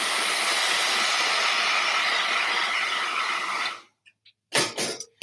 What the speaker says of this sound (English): I am going to hit this with a blow dryer just for a quick second.